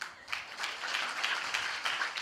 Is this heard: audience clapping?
yes